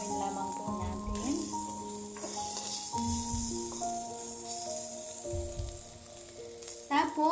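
Ready-made garlic sizzles in a hot pan while being stirred, a steady frying hiss with occasional scraping, soft and close, with background music.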